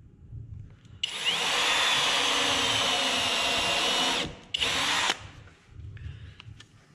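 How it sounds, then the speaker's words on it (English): A power drill drills and countersinks into wood framing for a wooden flag, a loud steady high whine for about three seconds, a brief pause, then a second short burst. "what I typically like to do is drill and countersink."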